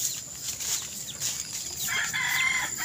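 Chickens and a rooster on a mountainside in the Philippines, faint clucking and crowing calls at a moderate distance over outdoor background noise.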